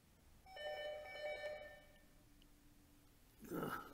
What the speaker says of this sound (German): Ruft gerade wieder einer an.